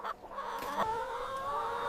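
Cage-free broiler chickens raised on the floor of a poultry farm house cluck in a continuous, fairly loud chorus, overlapping calls with no voices.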